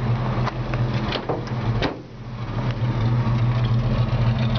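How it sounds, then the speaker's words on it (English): Engine of a 1954 Chevy 3100 pickup truck with a recently rebuilt engine, idling steadily with a low rumbling hum and some clicks and shuffles close by, with a brief dip in the middle. "I'm going to let you hear the engine."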